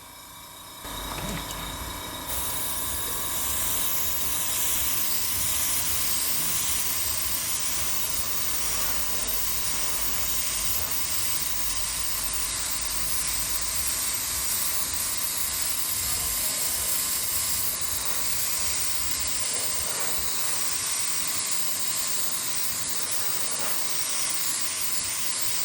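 An airbrush spraying Ammo by Mig Atom black acrylic paint, a steady close hiss of air and paint that starts abruptly and runs continuously without pause.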